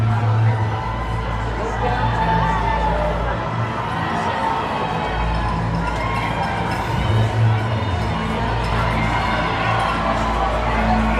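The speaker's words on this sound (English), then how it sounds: "we got lots of cheering here" Spectators line the course of the New York City Marathon, cheering and shouting in a continuous loud roar near the finish, with a nearby voice talking over it.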